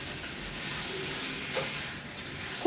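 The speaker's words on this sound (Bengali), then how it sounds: "মাংসতে মশলা দিয়ে দিয়েছি, আর অল্প একটু নুন দিয়েই ছিলাম আগে, তো এখন একটু ভালো করে কষিয়ে নেব" Boiled meat with spices sautéing in a pan, a soft continuous sizzle and hiss with faint stirring scrapes, fairly quiet and without talk.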